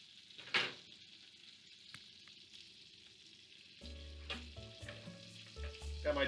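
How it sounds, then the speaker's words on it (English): Mushrooms cook in about two tablespoons of melted butter in a two-quart saucepan, giving a quiet, steady sizzle with a few clinks and stirring sounds from the pan. "Got my 2-quart saucepan here with about 2 tablespoons of butter, which I've been melting. And we're just going to cook these mushrooms down"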